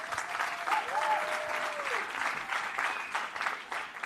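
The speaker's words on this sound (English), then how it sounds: "A round of applause." Audience applause fills a Leadership Summit hall, steady sustained clapping from a large crowd over the whole stretch, with a faint voice or tone gliding briefly underneath.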